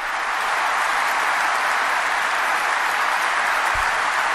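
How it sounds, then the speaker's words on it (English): Steady, dense applause from a large funeral congregation, with politicians among those on their feet, sustained and even throughout with no voices breaking through. "Yeah, so they're standing and cheering and clapping. Not cheering, clapping."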